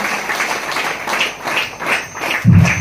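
A congregation at a prayer centre claps loudly in thanks, steady rhythmic applause from many hands, fairly near, with a low thump near the end.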